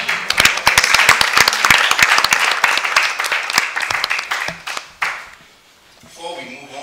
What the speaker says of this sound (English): Can we please give a resounding round of applause?